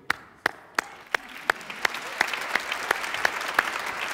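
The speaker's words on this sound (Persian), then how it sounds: "یه بار دیگه تشویقش کنیم" Audience applause with a crowd clapping in a steady rhythm, marked by a string of sharp individual claps about every third of a second over a dense bed of clapping. The applause holds at moderate loudness, with no voices over it.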